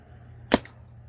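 One sharp, close paintball shot from an Ultra Shocker marker fitted with a Freak XL barrel, a single crisp crack with a faint trailing echo over low outdoor traffic rumble.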